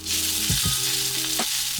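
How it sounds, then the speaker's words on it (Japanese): Meat sears in a pan on an induction-style cooktop with a temperature sensor, a loud, dense, continuous sizzle close up with a few knocks and shifts, no speech. "ちょっと温度の方を管理していきながら全体に焼き目をつけていきます"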